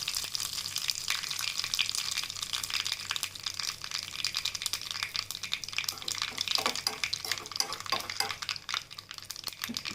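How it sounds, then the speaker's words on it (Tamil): Curry leaves and asafoetida crackle in hot oil for a peanut chutney tempering, a continuous close sizzle with scattered sharp pops and faint stirring scrapes, no voices. "இப்போ இது கூட கொஞ்சோண்டு பெருங்காயம் வந்து ஆட் பண்ணிக்கலாம்."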